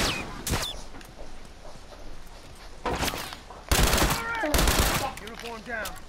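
Gunfire from The Last of Us Remastered, a few sharp broadband bursts arriving in clusters amid game sounds, with people chatting over it.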